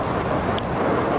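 Heavy rain in a storm in the game The Invincible, a dense, loud, continuous hiss with a low rumble beneath and no clear thunder crack in this short stretch.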